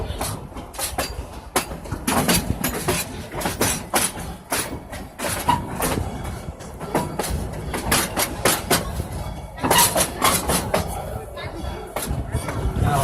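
Passenger train rolls along with irregular clacks, thumps and rattles of the cars heard from on board, close and moderately loud, with a voice speaking over the ride.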